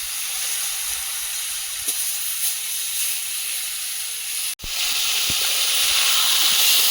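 Pomfret fish frying in oil after being flipped, a constant loud hissing sizzle that briefly drops out then surges back stronger, with a few faint knocks of the utensil.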